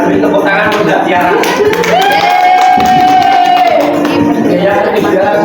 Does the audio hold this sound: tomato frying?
no